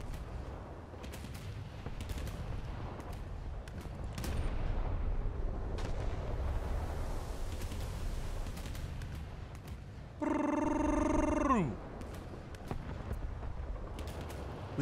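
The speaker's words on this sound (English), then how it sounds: "we're gonna have the secondaries open up" Battleship secondary guns fire in War Thunder, a dreadnought naval battle: repeated distant booms rumble over steady ship and sea ambience, with a brief mechanical alarm-like tone near the end.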